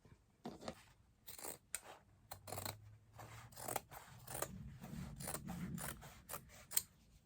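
Scissors snip through denim jeans fabric in a run of quick, crisp cuts with rustling between them, close and fairly quiet.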